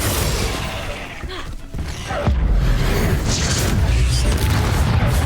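Incendio fire spell cast in Hogwarts Legacy during an arena challenge, a sudden booming whoosh of flame that bursts out midway and stays loud and dense amid ongoing combat noise.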